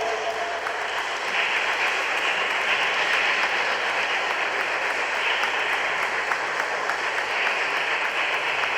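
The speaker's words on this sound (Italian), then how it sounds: "let's give a welcome, a big welcome and an applause" Sustained applause from an audience in a church, welcoming the organist at an organ festival, a dense steady wash of clapping that runs evenly through the whole stretch with no voices on top.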